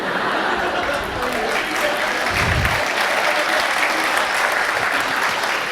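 An audience at a Rajyoga meditation talk applauds, dense and loud clapping that is sustained across the whole clip, with a little crowd murmur mixed in.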